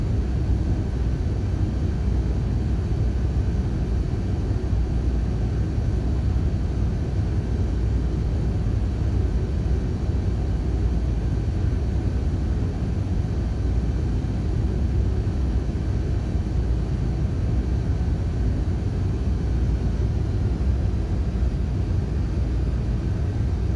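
Aircraft engine in the FSX flight simulator on a carrier landing approach, a steady broadband rumble and hiss that holds level for the whole stretch without change.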